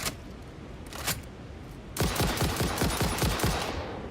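Rifle fire in the game Satisfactory: a couple of isolated loud shots, then a rapid, evenly spaced burst of about ten rounds fired up close, with no talking.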